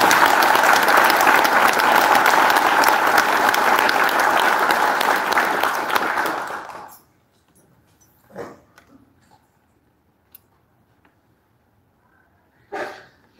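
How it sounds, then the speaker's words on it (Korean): An indoor audience at an inauguration ceremony for a new senior citizens' association chairman gives loud, sustained applause for several seconds, then it cuts off abruptly, leaving near-silence with a few faint bumps and knocks. "큰 박수로 맞이해 주시면 대단히 고맙겠습니다"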